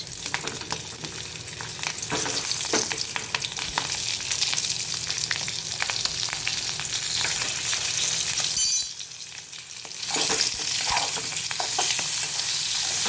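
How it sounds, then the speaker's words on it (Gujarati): Stuffed green chilies sizzle and fry steadily in hot oil, loud and close, with clinks of a utensil stirring the pan and a brief lull partway through; no one speaks. "આ મરચાં જે આપણે ભર્યા હતા તે તેમાં મૂકશું અને થોડીક વાર આ મરચાં સાતળવાના છે."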